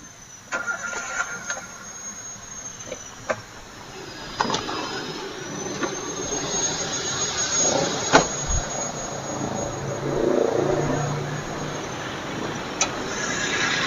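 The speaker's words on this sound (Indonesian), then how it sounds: "Ini bos, mesinnya bos. Kalau suaranya ya agak kasar dikit ya kalau menurut saya ya." A 2008 Toyota Avanza G petrol engine idles slightly rough in a steady, close, continuous hum, with a few light clicks and knocks scattered over it.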